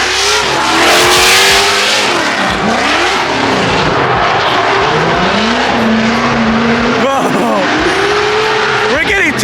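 Drift car at a Formula Drift event on the streets of Long Beach, screaming past close with revving engine and squealing tires, loud and near, as people talk and shout over it.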